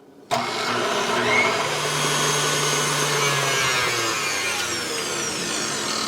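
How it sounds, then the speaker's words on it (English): An electric mixer switches on abruptly and whirs steadily, beating a no-churn strawberry Oreo ice cream mixture with vanilla toward soft peaks, close and continuous with no talking. "we are going to beat this until it begins to be nice and thick, sort of a soft peak stage"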